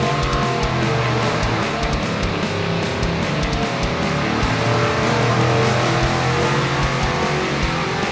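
World Products 454 cubic-inch LS7-style Warhawk V8 engine running on a dyno: a loud, sustained, droning roar with a steady tone and no pauses.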